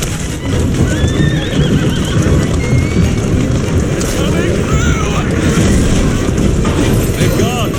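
A horse-drawn carriage in the Assassin's Creed Syndicate video game, with clip-clopping hooves and repeated neighs over a continuous rumble of wheels and wind, while voices talk throughout.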